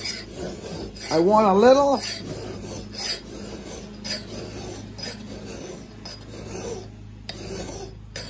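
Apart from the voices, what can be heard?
filing an axe bevel with a hand file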